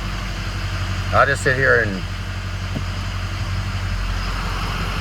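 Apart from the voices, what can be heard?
Ford Powerstroke truck engine idling in reverse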